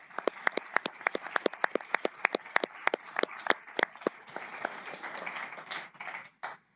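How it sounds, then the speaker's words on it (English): A small group claps for high school students at a county commissioners' meeting, the claps sharp and distinct at first and then thinning into scattered applause before fading out. "Let's applaud our students that they're doing such a good job"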